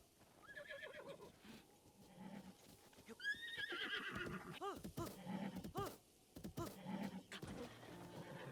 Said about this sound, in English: That horse just went vertical rather than let me catch it.